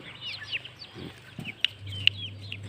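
Fighting-cock chicks on a breeding farm give thin high peeps and chirps, scattered and fairly close, over a low steady hum.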